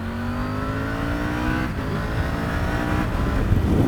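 A Triumph Tiger 900 GT Pro motorcycle accelerating part-throttle on a slippery road, its engine note rising steadily and loudly up close through the gears, with no speech.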